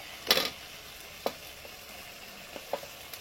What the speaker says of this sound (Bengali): আলু আর পটলটা এত সুন্দর করে ভাজা হচ্ছে তো